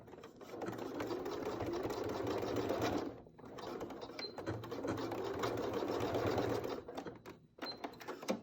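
A sewing machine runs in rapid, continuous bursts as it stitches through two thick layers of elastic, with a short pause partway through. The whirring is close and steady, and no one talks.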